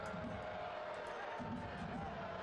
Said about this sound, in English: Crowd doesn't love that.